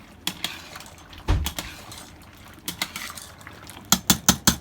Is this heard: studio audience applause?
no